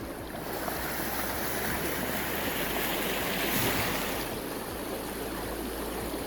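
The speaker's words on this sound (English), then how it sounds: "one thing down here, the water gets so loud" Loud rushing river water fills the whole stretch as a steady, dense wash of flowing noise heard up close beside the stream while out metal detecting, swelling slightly midway with no voices over it.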